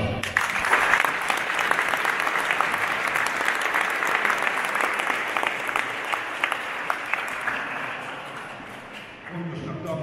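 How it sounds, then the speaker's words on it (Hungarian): Sustained audience applause at a Velence water sports club season opener honouring Olympic kayakers, dense steady clapping for about nine seconds before it fades, with some voices mixed in. "fiatalok számára is példát adó Kirill László olimpikonokat egy nagy tapsal"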